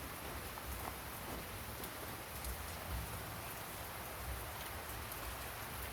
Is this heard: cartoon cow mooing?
no